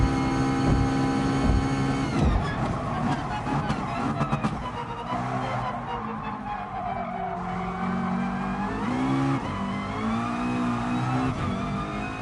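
A McLaren race car in the video game Gran Turismo Sport revs hard and loud, its engine pitch climbing and falling through gear changes, with tire squeal and skidding mixed in throughout.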